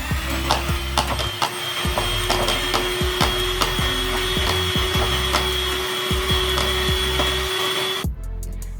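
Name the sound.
electric hand beater whipping ghee and sugar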